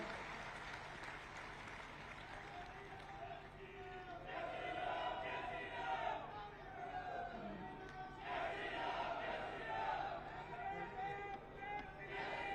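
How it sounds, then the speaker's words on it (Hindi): A large crowd at a state-level gathering of urban local body representatives applauds and cheers to welcome Haryana's Chief Minister, with long waves of clapping, shouts and whoops swelling and easing, while a voice carries over a public address system. "जोरदार तालियों से उनका हम अभिनंदन करते हैं"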